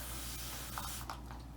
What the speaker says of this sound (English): I literally just take my spray bottle, spray this area with water